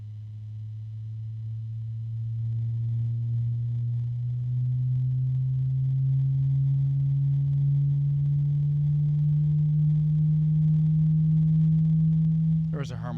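A be quiet! Silent Wings Pro 4 140mm PWM fan hums with a steady low tonal drone and a faint higher overtone, rising slightly in pitch as it speeds up, then ends with a brief click.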